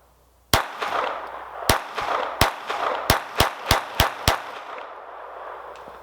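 Nine sharp pistol shots after a FrogLube freeze test, loud and close, spaced unevenly at first then coming in a quicker steady run, with a clanging ring between reports and no talking.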